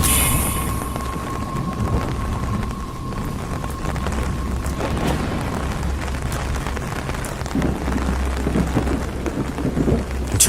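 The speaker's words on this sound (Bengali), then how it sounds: "ঝড় বৃষ্টির মাঝে সে দরজা খুলে বাহির হয়ে যায়" Steady heavy rain and rumbling thunder of a storm in a Bengali horror cartoon, a dense continuous downpour filling the scene with low thunder swells throughout and no voices.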